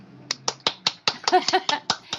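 A few people clapping close by, roughly a dozen sharp, uneven hand claps spread over two seconds in a quiet room.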